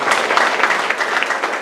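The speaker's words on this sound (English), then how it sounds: "You can clap and welcome him." Audience at a Rotary installation function clapping to welcome guests, a brief dense burst of applause at steady loudness.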